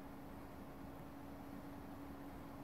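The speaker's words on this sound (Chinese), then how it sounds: "好，这是中的风量的声音" An ARKDAN air purifier's fan running at medium speed gives a steady, faint broadband whoosh with a low, constant hum underneath, unchanging throughout, with no talking.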